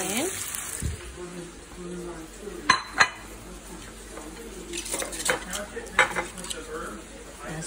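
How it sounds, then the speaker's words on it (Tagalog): Shrimp sautéing in a pan, a soft steady sizzle with occasional clinks of a utensil against the pan, and a voice talking over it. "Sinubla natin yung shrimp."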